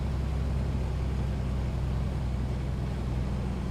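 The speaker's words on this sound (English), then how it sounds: "Those engine sounds are just wow." A Piper Comanche's piston engine drones steadily in Microsoft Flight Simulator 2020 with A2A Accu-Sim, a loud, even, low throbbing hum with a deep rumbling pulse and no voices.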